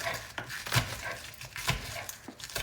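A knife chops leafy vegetables on a board for a chicken stir fry, a run of quick, uneven close knocks and cuts at moderate loudness with no talk.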